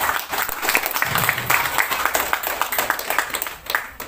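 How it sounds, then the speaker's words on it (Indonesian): An audience at an event for a young farmers' program claps steadily, a dense patter of many hands that stays fairly loud and even throughout, with no speech over it. "Tepuk tangan dulu."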